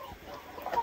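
Chickens clucking in a backyard flock beside a forest, a short, soft burst of low clucks with a slightly louder note near the end, no talk over it.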